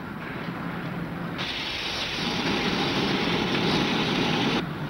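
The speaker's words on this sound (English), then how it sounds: "He's bleeding off his steam." A standing steam locomotive bleeds off pressure through its safety valve, a loud, steady roaring hiss that starts strong, intensifies partway through and carries on unbroken, with no voices over it.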